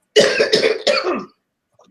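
Three rough, close coughs in a quick burst, each one raspy, followed by quiet.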